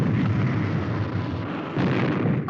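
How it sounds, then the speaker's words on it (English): Starting up, the Supercar craft lets out a loud, continuous, rumbling roar like a blast that holds steady, swelling briefly toward the end. "Only supercar starting up."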